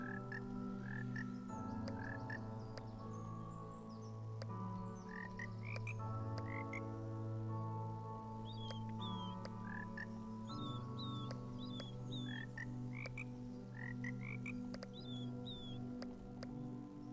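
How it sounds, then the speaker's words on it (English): Frogs croak in a video game lake, with repeated rising chirpy calls layered over steady lower croaking and a constant ambient bed, continuous and close throughout. "Now that's a proper lake. It's going to be full of froggies."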